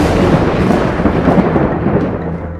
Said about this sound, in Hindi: भरी दोपहर में अचानक पहले बादल गरजने लगे